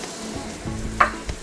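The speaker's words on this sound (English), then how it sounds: "And then I'm giving that a quick toss." Garlic, ginger and green onion whites sizzle in about two tablespoons of hot oil for a chicken pad Thai stir fry, a steady crackling hiss with a brief clatter as they are tossed, no voices.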